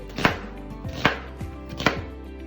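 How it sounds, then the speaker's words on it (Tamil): A knife chops an onion into square pieces on a cutting board for chili chicken, giving three sharp, close thuds spaced under a second apart with softer knocks between them, and no voices. "வெங்காயமும் அறியணும்"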